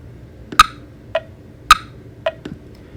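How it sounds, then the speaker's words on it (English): Tonal Energy app metronome ticking an eighth note subdivision: sharp accented clicks on the beat alternate with softer, lower clicks between them, evenly spaced and close, with no other sound. "If I want an 8th note subdivision, I'm able to do that."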